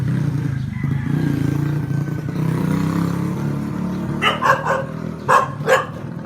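A few sharp barks from a dog in a village of Tongkonan houses in Tana Toraja, coming in short bursts near the end over a steady low rumble of background noise.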